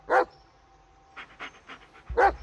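A dog in the Blair Witch video game pants in short, close breathy bursts, with a few quick huffs in between, alone and fairly loud.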